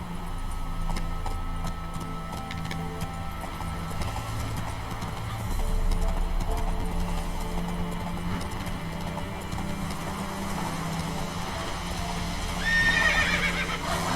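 A horse in The Witcher 3 whinnies loudly as its hooves pound in a fast gallop, with a steady game soundscape underneath and a second whinny toward the end.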